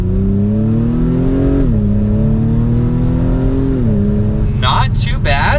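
A 2-liter four-cylinder Acura TLX SH-AWD A-Spec sedan accelerating in sport mode, its engine note climbing steadily through a gear with brief dips at shifts, while someone talks over it.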